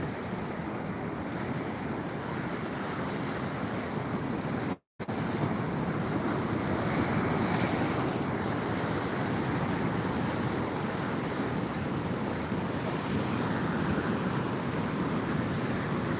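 Sea waves breaking at Mahabalipuram beach, a steady broad wash of surf with wind rumble on the microphone, continuous and fairly loud apart from a brief dropout near the middle.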